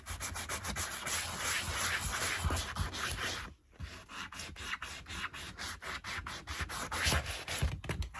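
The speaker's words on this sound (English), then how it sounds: "We are just giving it a rough sand to give the paint something to bite onto." A Louis XVI wooden chair being rough-sanded by hand before painting, brisk rhythmic back-and-forth rasping strokes close up, with a brief pause midway before the scrubbing resumes.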